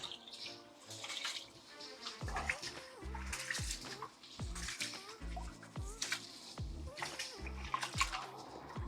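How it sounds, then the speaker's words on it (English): Rice being washed in water in a pot, repeated close splashing and swishing with scraping clatter of grains, an irregular rhythm over several seconds in a home kitchen. "Wash the rice about 2 to 3 times"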